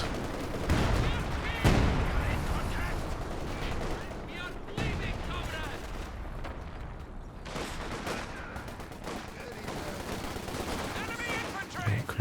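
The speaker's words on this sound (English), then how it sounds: "There's an IL-2 bombing run deployed." An IL-2 bombing run in the WWII strategy game Company of Heroes 2: heavy explosive bursts and booms at intervals amid crackling gunfire, loud near the start and thinning later, with a low battlefield rumble throughout.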